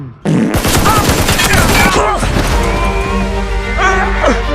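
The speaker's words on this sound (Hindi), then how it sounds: "हमें एक साथ गोली चलाना होगा 3 गिनने पे, ताकि ये बचे ना।" Several guns fire in a volley during a comedy sketch, one sharp loud blast followed by a dense burst of rapid shots that trails into a rumbling tail, with voices shouting over it.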